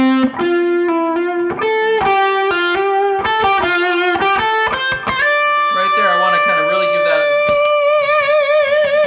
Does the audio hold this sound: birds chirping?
no